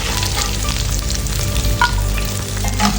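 Chilli fish fries in a pan with a loud, close, continuous sizzle and crackle, and a few short stirring scrapes over about three seconds, with no talking.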